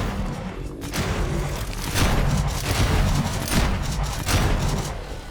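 Pump-action shotgun fire in the zombie game Dead Island 2, a series of loud booming blasts roughly a second apart over a dense, noisy game soundscape.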